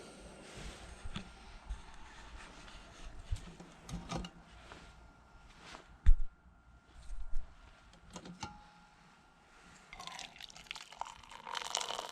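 Water coming to a boil in a pot on a camp stove during a river kayak trip, soft irregular bubbling and gurgling pops with a faint hiss, close and fairly quiet.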